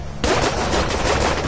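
Rapid, continuous video-game gunfire bursts out abruptly and keeps up as a dense, loud barrage with no voices over it.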